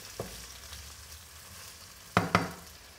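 Quartered cherry tomatoes sizzle in hot oil in a pan over lowered heat, with a steady soft frying hiss and two brief clattering stirs of a utensil near the end.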